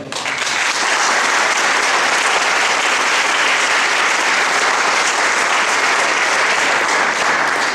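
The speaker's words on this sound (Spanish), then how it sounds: "un fuerte aplauso al Señor" A large audience gives the arriving speaker a strong welcoming round of applause at a talk on the Gaza conflict. The clapping is loud, dense and continuous, a roaring wall of hands that swells quickly and holds steady throughout.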